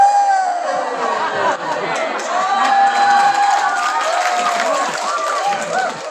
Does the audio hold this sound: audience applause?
yes